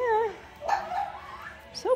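A four-week-old puppy whimpers nearby in thin, wavering high whines, a couple of drawn-out cries over about two seconds with faint background noise.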